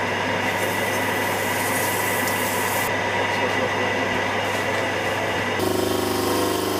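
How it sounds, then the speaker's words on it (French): A rotary metal wire brush scours a clock's entry wheel during clockwork restoration, a steady dense grinding whir running continuously, close and loud, with a brief shift in tone near the end. "nettoyage d'une roue d'entrée avec la brosse rotative métallique"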